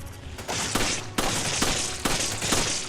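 Gunfire in Resident Evil 5 on Xbox 360, a burst of several sharp, loud shots in quick succession with short echoing tails, close and uninterrupted by speech.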